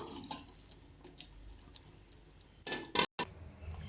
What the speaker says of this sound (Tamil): லோ ஃப்ளேமில் வச்சுட்டு நீங்கள் அப்படியே கரண்டியை வச்சு கலக்கி விடுங்க